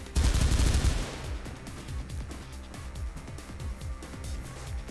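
Video game gunfire in Mirror's Edge: a heavy burst opens, then rapid, evenly spaced automatic shots rattle on steadily at close range with no talking.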